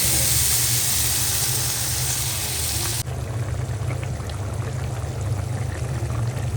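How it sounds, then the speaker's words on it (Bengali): Water poured into a hot cooking pot of quail meat curry gives a strong rushing hiss that cuts off abruptly partway through, leaving a quieter low rumble and faint bubbling. "পানি দিয়ে দিব পরিমাণ মতো।"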